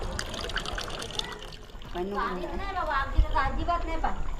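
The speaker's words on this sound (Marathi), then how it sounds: "आजी म्हातारे आजी सुद्धा पाणी भरत आहेत" Water trickles and pours steadily into pots at a village water-filling spot during a shortage while people talk nearby, with a small knock partway through.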